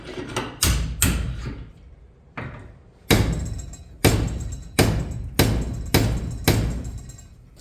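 Repeated loud hammer strikes on a piece of 5160 steel in a vise, about one per second with a short pause early on, each blow ringing out sharply.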